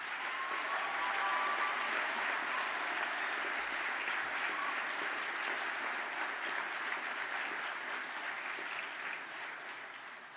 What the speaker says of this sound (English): I'll ask all the architectural technologists to stand up for a very well-deserved